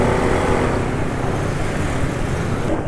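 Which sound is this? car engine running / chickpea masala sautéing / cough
car engine running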